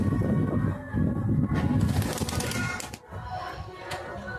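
Pigeons coo in soft, throaty, repeated calls close by, with a brief flutter of wings and light background noise and no talk.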